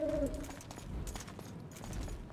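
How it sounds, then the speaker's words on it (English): A brief hooting owl call at the start of a Witcher 2 game scene, a short tonal hoot over soft ambient background noise, followed by quieter forest-like ambience. "What kind of owl is it?"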